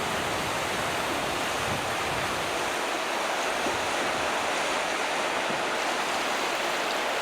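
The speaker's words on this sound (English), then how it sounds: "This is Eagle Rock Rapids that we're at, of course." Eagle Rock Rapids on the McKenzie River, a broad, steady roar of rushing whitewater heard close and loud, constant throughout with no voices.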